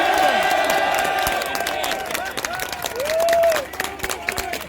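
A large outdoor crowd at a Dublin lockdown rally cheers, applauds and whoops in a continuous swell, with shouted voices and whistles rising above the clapping.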